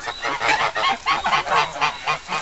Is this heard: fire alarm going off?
no